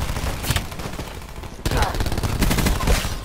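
Heavy gunfire from many players at once in the Black Ops 4 shooter, rapid overlapping bursts of loud shots stacked densely across the moment, with a sharp surge midway.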